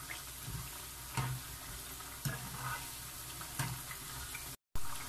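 Hot oil sizzles and crackles steadily close by as potatoes fry for French fries, with a few louder bubbling pops at irregular intervals.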